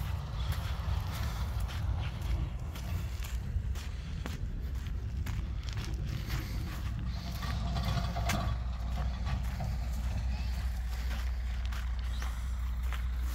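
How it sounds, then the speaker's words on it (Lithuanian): A lorry rumbles back to a harvest field where grain is being threshed, a steady low engine drone filling the whole stretch at moderate distance with no talk over it. "Fūra grįžo."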